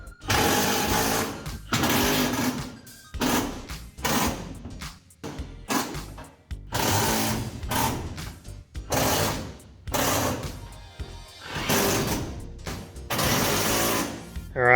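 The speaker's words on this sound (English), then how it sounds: "let's screw that on" A power driver sets screws through hinges into a handmade gate in a shop, in repeated short whirring bursts separated by brief pauses, close and fairly loud with no talking.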